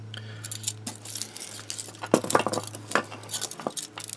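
A bunch of eight keys held in a KeySmart Premium key holder, jangling and clinking in irregular bursts up close, with metallic chinks over a low steady hum.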